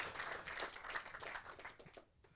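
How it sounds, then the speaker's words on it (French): Audience at a company launch event giving a round of applause, dense clapping that holds steady and then thins out toward the end, fairly faint. "Encore un tonnerre d'applaudissements, s'il vous plaît, quand même."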